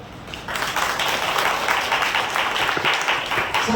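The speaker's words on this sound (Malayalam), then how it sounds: "കയ്യടിച്ച് ഈശോയ്ക്ക് നന്ദി പറയാം." A crowd at a Christian family-life class applauds in thanks to Jesus, dense steady clapping that rises quickly and holds for several seconds, filling a large room.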